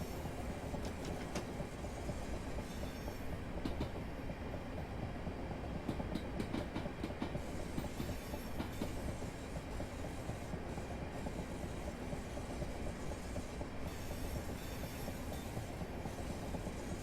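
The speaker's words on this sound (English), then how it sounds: "Hearing a train coming, can't see one. Oh, there it is on the other side." A Class 465 train in Train Sim World 2021 rumbles past steadily on the London Victoria to Orpington line, rhythmic clattering wheels, a dense continuous roar that stays loud throughout with no talking.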